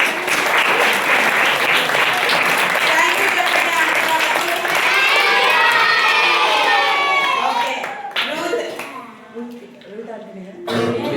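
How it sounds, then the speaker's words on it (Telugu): Children and adults clapping at a camp puppet show, a loud burst of applause with shouts and cheers that thins out and fades toward the end, voices mixed in. "ఓకే, ఆంటీ వాళ్ళ క్లాప్స్ కొట్టండి."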